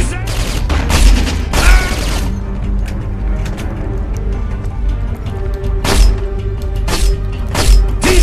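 Bursts of gunfire in the video game Syphon Filter: Logan's Shadow, with rapid clusters of shots early on and again near the end, loud and dense over a constant game background, with a voice talking over it.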